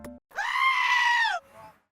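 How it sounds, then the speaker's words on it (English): A one-horned goat in a forest lets out a single loud, human-like scream, a sustained strained bleat of about a second, followed by a brief softer tail. "The next example I could find of the screaming goat was in Despicable Me 3 in 2017"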